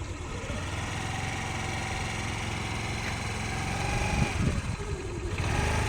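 A scooter engine idles close by with a steady mid-pitched hum and rises slightly in brief revs as the rider brakes and throttles gently through a slow turn, with no speech heard.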